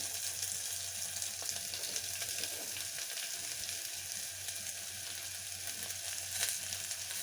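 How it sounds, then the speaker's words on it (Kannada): Onions frying with garlic in a pan for a raw banana stir-fry, a soft, steady close sizzle with a low hum underneath and a brief clink near the end. "ಬೆಳ್ಳುಳ್ಳಿ ಸ್ವಲ್ಪ ಫ್ರೈ ಆಗಿದ ತಕ್ಷಣ ಈಗ ಆನಿಯನ್ ಹಾಕ್ಕೊಳ್ತಾ ಇದ್ದೀನಿ"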